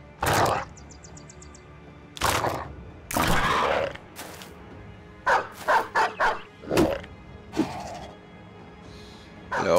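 A horde of dogs barks in the video game Battle Brothers, with sharp yaps and bow-wows arriving in repeated bursts, some clustered rapidly, others spaced apart, loud and close over a quiet background.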